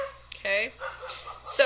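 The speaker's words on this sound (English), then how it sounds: "Sorry about the dogs in the background." Several dogs barking and yipping in a household, with high whimpering yelps mixed among short barks, heard alongside a person speaking.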